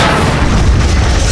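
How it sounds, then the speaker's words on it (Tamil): A bomb blast in a Tamil TV serial, heard as a sustained, loud, deep rumbling boom that fills the whole moment with dense low-end roar and no voices. "திடீர்னு பாம்பு வெடிச்சது"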